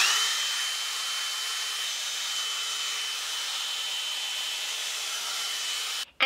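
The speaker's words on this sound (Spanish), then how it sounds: "lo que voy a hacer va a ser secármelo con secador y peine" A hair dryer blowing on hair while it is combed, a steady close whirring roar that holds evenly for several seconds before a brief clunk as it cuts off at the end.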